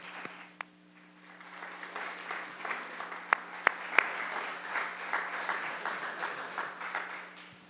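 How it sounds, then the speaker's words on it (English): A community forum audience gives a panel a round of applause: many hands clapping in a steady, moderately loud wash, with a few sharp individual claps standing out, lasting several seconds without speech. "Let's have a nice round of applause for the panel."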